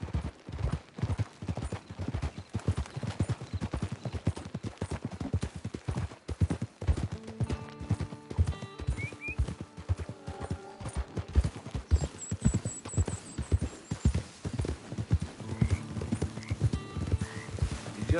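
Hooves clip-clop steadily and close in Red Dead Redemption 2 as a horse moves along, a quiet rhythmic patter lasting throughout with faint musical and ambient tones layered beneath.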